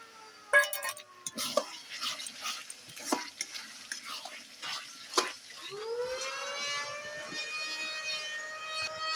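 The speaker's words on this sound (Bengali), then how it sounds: "সামান্য একটু জল দিয়ে মশলাটা কষে নেব" Spice masala of cumin powder and chilli powder being stirred in a pan with a splash of water, for a Bengali fish kalia, giving a near scraping stir with clinks, followed by a steady hiss of sizzling.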